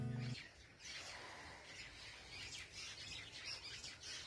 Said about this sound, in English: Now the birds are having their fun time.